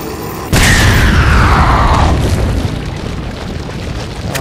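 A grenade detonates with a sudden loud boom in Resident Evil 4, the blast roaring broadband and then decaying into a long rumbling tail that lingers for several seconds.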